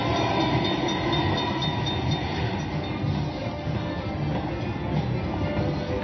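A slot machine's train bonus feature in a Las Vegas casino plays loud, continuous rolling railway noise, a dense rumble and clatter of passing rail cars with no break.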